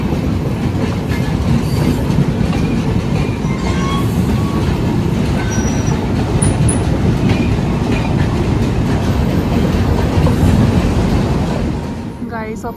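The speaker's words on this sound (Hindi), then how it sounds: "ये राजधानी एक्सप्रेस है पैनल में, new Delhi to Dibrugarh town." Rajdhani Express train from New Delhi to Dibrugarh rolling along the rails, a loud, steady rumble with rhythmic clatter and faint squeals that continues throughout and eases slightly at the very end.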